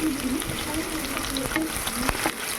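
Crushed ginger and garlic sautéing in hot oil with mustard seeds and cumin: a steady close sizzle and crackle with occasional soft stirring scrapes, continuous throughout.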